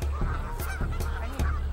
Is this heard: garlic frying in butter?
no